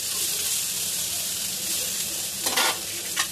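Eggplant slices fry in hot oil with a dense, continuous sizzle close up, broken near the end by a couple of short, sharper bursts of stirring or turning.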